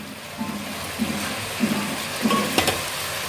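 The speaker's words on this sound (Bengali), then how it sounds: "আর ডাল সমেত এই সবগুলোকে আরো পাঁচ মিনিট আমি এভাবে কষিয়ে নেব।" Lentils with spices being stir-fried in a pan over medium flame, a soft steady sizzle with faint scraping stirs recurring every half second or so, close and fairly quiet.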